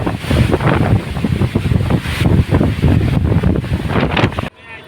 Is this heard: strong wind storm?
yes